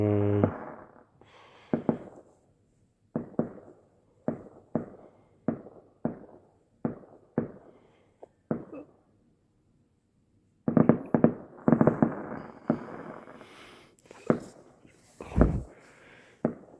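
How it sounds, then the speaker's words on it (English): A fireworks display in Strasbourg booms in a run of sharp, evenly spaced blasts, then a pause, then a denser crackling barrage, with voices occasionally heard nearby. "Six minutes into these fireworks."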